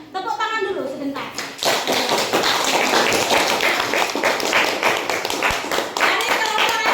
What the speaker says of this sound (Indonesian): Tepuk tangan dulu sebentar.